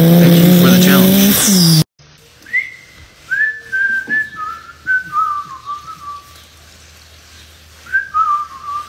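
After a brief spoken line, a human voice imitates a Power Stroke engine with whistling, turbo-like pitch glides that slide downward in short bursts, fairly close and moderately loud.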